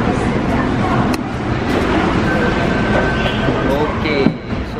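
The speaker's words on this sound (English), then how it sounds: "So kita dah ada dalam subway." Seoul metro subway train riding along, a loud steady rumble with rattling and clicks, a faint tonal whine, and voices talking over the noise throughout.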